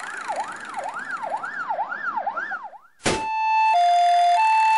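A loud ambulance siren yelps in a quick repeating up-and-down warble, then breaks into a sharp burst and a steady two-tone electronic tone.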